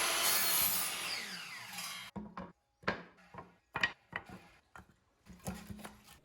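A saw cuts through wood in a steady rasping burst, then stops; afterward come scattered knocks and scrapes of boards being handled up close.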